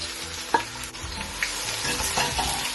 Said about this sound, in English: You have to fry them until they are golden.